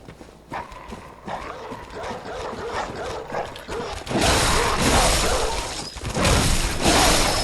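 Snarling dogs attack in Bloodborne amid scraping and impacts, growls and barks tangled with clattering combat sounds, turning louder and harsher in the second half.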